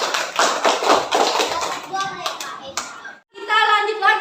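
A classroom of children claps for group 1 during a practice teaching lesson, quick tapping hand claps filling the first seconds before a teacher's voice takes over.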